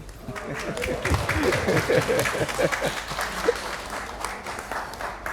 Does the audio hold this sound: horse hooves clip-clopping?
no